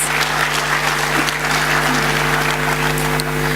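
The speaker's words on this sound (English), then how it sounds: "A round of applause, please, for our Honorable Ministers." An audience at a Mali ministry event applauds the honorable ministers, a steady, loud wash of clapping that holds evenly throughout over a low electrical hum.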